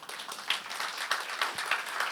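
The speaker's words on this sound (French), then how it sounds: "j'aimerais qu'on applaudisse Jean-Claude." Applause from a church congregation during an online service: steady, dense clapping that continues throughout at moderate volume, without talking.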